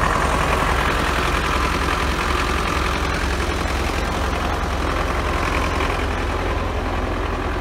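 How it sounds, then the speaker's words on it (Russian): A heavy Kuhn tractor idles on a farm near a mower stuck in manure, its loud, low engine rumbling steadily and close without a pause. "Трактор куновский"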